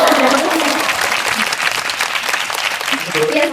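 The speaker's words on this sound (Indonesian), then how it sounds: "tepuk tangan buat kelompok 2" A classroom of students applauds for a presenting group during a school history lesson, steady dense clapping filling the whole stretch with some voices mixed in.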